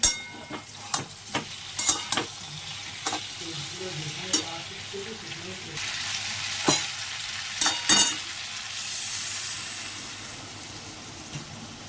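Steady soft sizzle of food frying in a pan, punctuated by sharp clinks and scrapes of a utensil stirring at irregular intervals.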